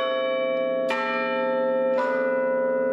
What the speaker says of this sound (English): Sydney's Town Hall clock tower bells were about to ring out once more.